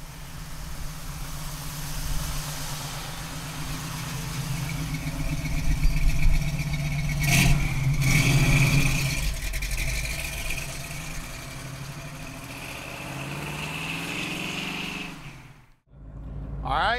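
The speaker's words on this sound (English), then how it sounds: "351 Cleveland under the hood. It's got an awesome exhaust system on it. She sounds great." A 1970 Grabber Blue Ford Mustang with a 351 Cleveland V8 and an aftermarket exhaust runs at a steady, rumbling idle, with a brief swell of revs midway. A person talks over it, and the sound cuts out briefly near the end.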